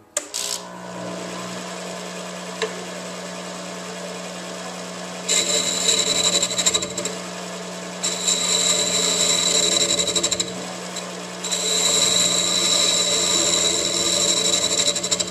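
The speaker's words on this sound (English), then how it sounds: "So I'm going to be using this carbide cutter, and we're going to see what we can do with it." A carbide cutter shears the outside of a segmented wooden vase spinning on a lathe, a steady motor hum with bursts of bright scraping whine as the tool touches the wood.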